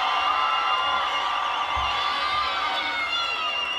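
A home crowd cheers steadily at an NCAA women's gymnastics championship meet, a broad sustained roar of voices and whoops throughout.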